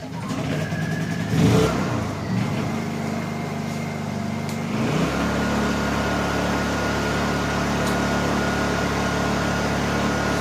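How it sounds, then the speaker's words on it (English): A Honda EU series inverter generator pulls into life with a rising engine roar around the first seconds, then settles into a steady, loud, continuous drone that runs unbroken to the end, close by with no talk. "fire up the generator, and see how it works"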